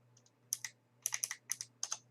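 Computer keyboard typing in bursts of quick clicky keystrokes, several short clusters spread over two seconds against a steady low electrical hum, fairly close with no talking.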